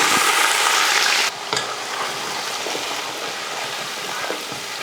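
Onions sauté in hot oil with fenugreek, mustard seeds and curry leaves for brinjal tamarind curry. A loud, dense sizzle starts the clip, then settles into a steady, softer frying hiss with light stirring. Close by, and no one speaks.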